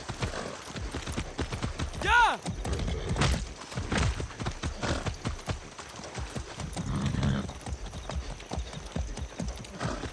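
Horse hooves clip-clop steadily and close in Far Cry 6, a brisk rhythmic gallop with a whinny near the start and someone shouting at the horse over it.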